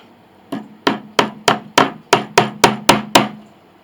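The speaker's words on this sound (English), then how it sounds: "Once I hammer these all in as close as I dare with this hammer" Pins being hammered into the bridge of an 1881 Steinway Model A piano, ten sharp metallic taps at a steady, slightly quickening pace, close and clear with short ringing decay.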